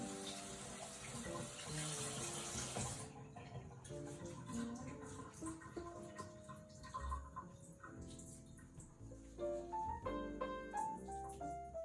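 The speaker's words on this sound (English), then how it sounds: "Put a little bit of cold water so they don't continue to cook over it." Cold tap water pours over a pan of cooked zucchini to stop the cooking, giving a loud, steady broadband rush for the first few seconds before it falls away beneath ringing tonal sounds.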